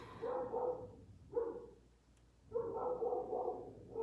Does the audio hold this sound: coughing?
no